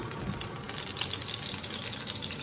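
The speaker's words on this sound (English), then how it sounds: "Now you hear that sizzle?" Oil for shrimp and veggie fried rice sizzles in a hot wok on medium-high heat as a dense, steady hiss and crackle, close and even, with no talk.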